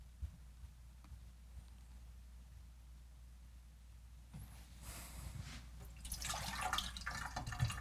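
Water is poured into a beer-based homemade film developer mix, starting faint and building in the last few seconds into a louder splashing trickle after a quiet stretch.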